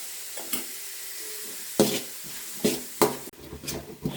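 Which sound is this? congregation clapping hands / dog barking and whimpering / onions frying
onions frying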